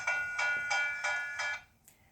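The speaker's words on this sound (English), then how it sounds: "That sound was this rock hitting this one." A sacred ringing rock protected by the Pechanga tribe is struck with another rock five times in an even rhythm, each blow giving a clear, bell-like metallic tone that rings briefly before the next.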